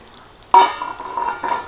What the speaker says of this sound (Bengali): এগুলো ভালোভাবে নেড়ে চেড়ে ভেজে নিতে হবে।